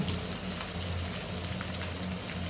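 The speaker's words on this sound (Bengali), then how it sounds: "আমি চিকেন পিসগুলো অ্যাড করে দিচ্ছি খুব ভালোভাবে ভেজে" Chicken pieces fry in a pan for chicken biryani, giving a dense, even sizzle that crackles steadily and closely with no pauses and no voices.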